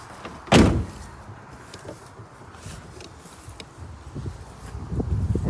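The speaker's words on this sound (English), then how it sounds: "Let's shut the door." A vehicle door is shut with one loud, close, heavy thud during work on a car's boot and ham radio antenna earthing, followed by quiet ambient noise.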